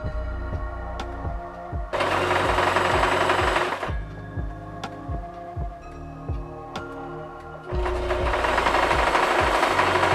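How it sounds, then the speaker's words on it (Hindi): A sewing machine threaded with a double needle stitches in two loud, fast whirring bursts, with slower single clacks of the needle mechanism between them, up close and without talk. "अब मैं आपको डबल सुई से कुछ सिलाइयाँ लगाकर दिखाती हूँ।"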